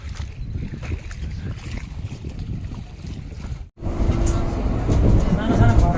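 Steady rumbling rolling noise of a moving train in Romania, briefly cut off, then resuming louder with rattling and clatter.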